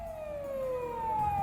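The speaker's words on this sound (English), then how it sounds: "a shrill siren shatters the night" A police car siren in the visual novel game Steins;Gate Elite at night, a shrill, steady wailing tone that slowly sweeps in pitch, moderately loud and heard alone.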